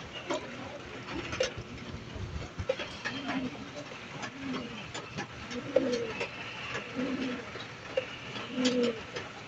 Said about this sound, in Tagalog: Nandito na yung aking mga kalapate